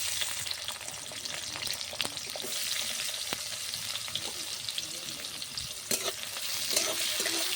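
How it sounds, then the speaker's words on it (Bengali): Chopped onions frying in hot oil in a wok-style pan, a dense continuous sizzle with occasional spatula scrapes and clicks, close and fairly loud throughout. "ভালো করে পেঁয়াজ কুচিগুলো ভেজে নিতে হবে লাল করে"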